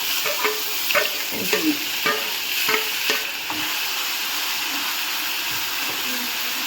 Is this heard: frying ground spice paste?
yes